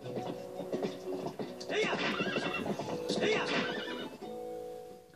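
A horse neighs in the video game Zelda Twilight Princess HD, a loud, close whinny with a quavering pitch, over game music and hoof clip-clops.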